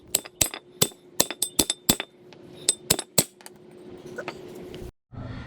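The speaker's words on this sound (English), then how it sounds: "So you just got to get a hammer and just pound it." A hammer pounds on a steel brake rotor to knock it off a car's front wheel hub: about a dozen sharp, ringing metallic strikes in uneven bursts, loud and close, trailing off into quieter taps.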